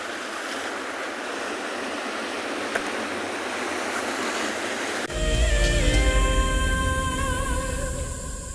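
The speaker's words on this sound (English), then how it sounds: "listen to the gorgeous waves as they crash on the rocks near us" Ocean waves crash on rocks close by on a South African coast with kelp, a steady roaring wash that surges louder and fuller midway, with a low rumble and no talking.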